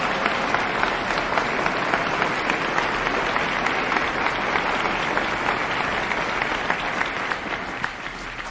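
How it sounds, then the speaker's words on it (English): A live audience's dense, sustained applause on a 1961 live album recording, a loud, even roar of many clapping hands that holds for the full stretch and eases slightly near the end. "Could we have a terrific round of applause this time for me?"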